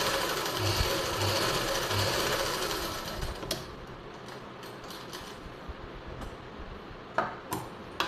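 A sewing machine stitches a silk suit in a steady whirring run for about three seconds, then stops, leaving a few faint clicks and taps close by.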